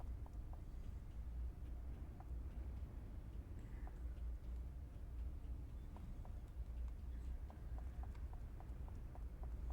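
Faint footsteps in the City of Heroes video game, a soft steady series of steps inside a warehouse under a low ambient hum.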